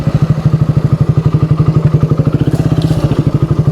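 Small motorcycle ridden over a rough rural road in Masbate, its engine putting out a steady rapid pulsing rumble with rattling and clatter from the bumpy surface, close and loud throughout.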